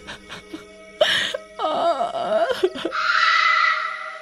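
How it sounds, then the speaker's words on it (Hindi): A woman cries and wails in a park at dusk, with broken sobbing moans and whimpers rising into a sustained, quavering wail, close and fairly loud. "हमेशा की तरह शाम होने के बाद उस औरत के रोने की आवाजें"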